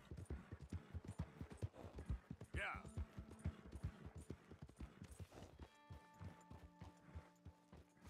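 Horse hooves clip-clopping in the Red Dead Redemption 2 video game, a steady rhythmic clatter of hoofbeats at close range with speech and game audio over it, then a sustained musical tone.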